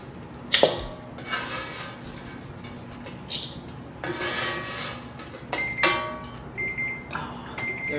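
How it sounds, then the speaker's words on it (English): A kitchen timer rings in a home kitchen during breakfast potato preparation, bright repeated electronic beeps in short bursts toward the end amid scattered clinks and handling noises. "There's my timer."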